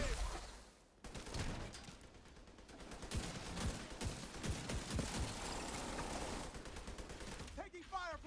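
Heavy gunfire in The Division 2 rattles in dense, overlapping volleys of shots and bursts, sustained after a brief lull at the start and tapering at the end.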